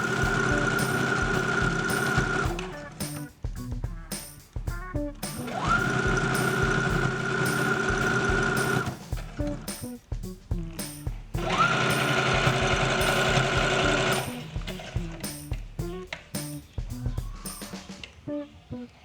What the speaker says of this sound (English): We are going to sew the edges together as you see here